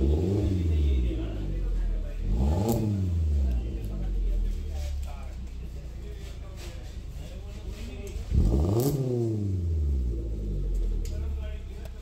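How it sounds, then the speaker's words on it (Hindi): A Suzuki Jimny fitted with a Fujitsubo performance exhaust revs twice, each rise and fall of the engine loud and close over a steady idle, with someone talking at times. "और एक बार रेव करके देखते हैं इसको।"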